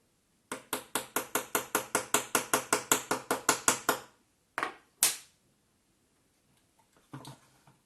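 A rapid run of about fifteen sharp, evenly spaced metallic strikes hammering out model ship frame parts, close and loud, followed by two heavier blows and a few faint taps.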